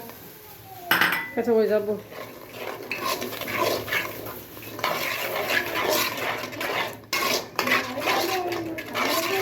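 Beans going into a pot of curry and being stirred, with clattering metal utensil and pot sounds close by and a brief voice speaking partway through.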